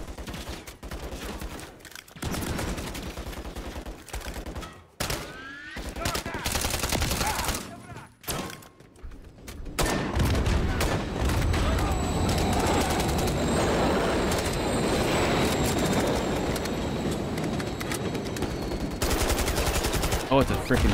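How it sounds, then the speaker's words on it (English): Continuous rapid machine-gun fire from a turret in the video game Modern Warfare 3, loud and dense, with sustained rattling bursts, a brief lull midway, then steady heavy fire to the end among game noise. "it's a freaking turret up there"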